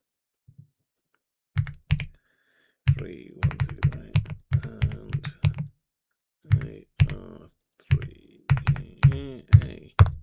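A clicky computer keyboard clatters in uneven bursts of sharp keystrokes close to the mic, with pauses between runs, while someone talks intermittently.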